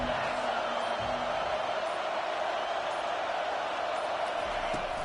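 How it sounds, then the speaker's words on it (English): A stadium crowd at an American football game roars in a steady, dense wall of cheering as the visiting team is welcomed, loud and continuous with no breaks throughout. "This crowd bringing an ear-splitting welcome to their visitors."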